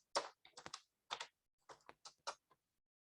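Computer keys tapped in a short series of crisp, close clicks, about eight presses in uneven bursts, with silence between them and no voices.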